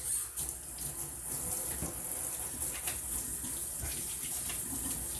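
Water runs steadily from a kitchen tap into a sink while dishes are washed after cutting mango, a continuous close splashing hiss with no talking.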